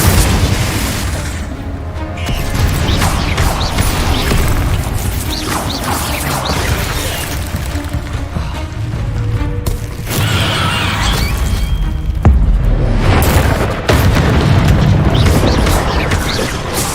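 Repeated Confringo fire-blast explosion spells in the video game Hogwarts Legacy boom and crash continuously at high volume, dense layered bursts with game effects over a full sustained stretch.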